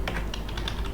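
Keys clacking on a computer keyboard while an email address is typed into an HTML form, a quick steady run of close, crisp taps with no talk.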